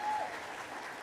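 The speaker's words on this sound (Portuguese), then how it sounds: "Muitas palmas para vocês, assim, ó." Brief applause from a conference audience for the volunteers and sponsors of an open-data event, a short burst of clapping that starts strongly and then fades slightly.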